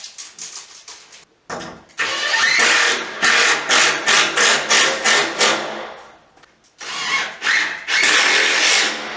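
A power drill drives screws into wooden wall framing in a trailer house, with repeated loud, close bursts of whirring separated by short pauses.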